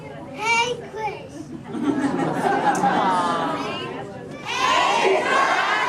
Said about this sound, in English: everybody else, scream out, "Hey Crush."